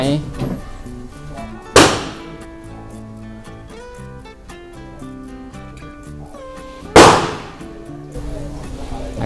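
Two sharp, loud reports from a Wilson Combat 1911 Classic .45 ACP pistol firing practice ammunition at a target range near dusk, spaced several seconds apart over background music and talk.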